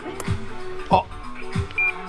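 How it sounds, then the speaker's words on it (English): A short electronic beep sounds near the end as a GME XRS Connect radio powers up, amid clicks and handling noises up close. "It totally beeped."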